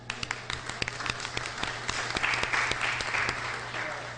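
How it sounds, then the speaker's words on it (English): Applause from the audience at a county board meeting, fairly quiet and slightly distant, with individual claps standing out over a steady patter for a few seconds and a low hum beneath. "Give them a little round of applause."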